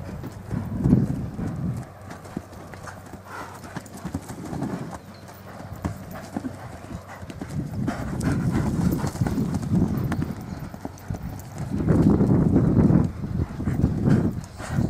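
Horse hooves clip-clop in a steady, comfortable walking gait on a ranch in Entre Ríos, loud and close, recurring in clustered bursts throughout with light background noise.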